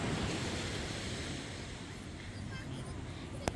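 Ocean surf rolls in at Montara State Beach near Half Moon Bay, a steady broadband wash of breaking waves with wind rumble and a brief sharp knock near the end.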